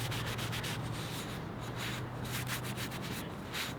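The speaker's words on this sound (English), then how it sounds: "then you just rub it on, rub it in, hand rub it in" A hand rubbing finish into a wooden kitchen utensil, giving a steady, soft, continuous friction hiss with a low hum underneath, close and quiet throughout.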